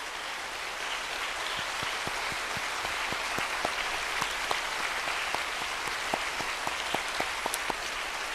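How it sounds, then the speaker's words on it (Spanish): A church congregation applauds in praise during a worship service, a steady wash of many hands clapping with a few sharper individual claps standing out, fairly distant and even throughout. "Demos gloria delante de nuestro Señor, aplaudiendo"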